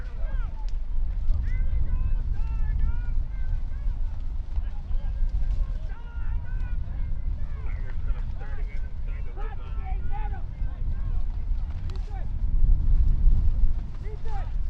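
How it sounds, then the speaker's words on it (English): Wind buffets the microphone at an outdoor Newport vs Winnisquam football game, a constant low rumbling roar that swells near the end, heard throughout beneath a commentator talking. "this wind plays troublesome here"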